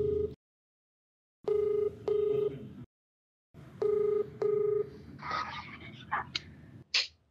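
A phone call being placed: short bursts of steady electronic tones in a repeated on-off pattern, like dialing or ringback, with quiet gaps between them, then faint rustling and small noises at the end.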